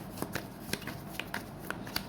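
Tarot cards shuffled and drawn from a deck during a reading, a series of quick papery riffles and flicks spaced across a couple of seconds, close and fairly quiet in a still room.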